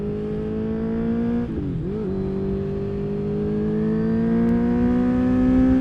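A 2023 Honda CBR 650R motorcycle being ridden, its engine a steady close hum that dips briefly, then climbs slowly in pitch as the bike accelerates, alone without talk.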